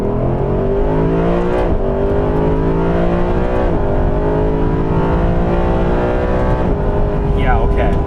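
A Mercedes SLS Black Series accelerating hard, heard from inside the cabin: a loud, continuous engine roar whose pitch climbs steadily through the gears, with brief dips at each shift.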